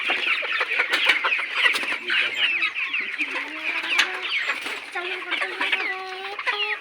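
Layer pullet chickens crowded at a farm during debeaking, keeping up a constant chorus of clucks and squawks close by, with rising tonal calls toward the end and a faint voice underneath.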